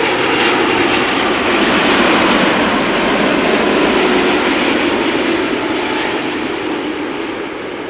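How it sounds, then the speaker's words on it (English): A Boeing 787 Dreamliner arriving from Las Vegas comes in to land at Amsterdam Schiphol, its loud, broadband engine roar sustained and steady throughout before easing slightly at the end. "Pretty soon no longer airborne, this Dreamliner arriving from Las Vegas"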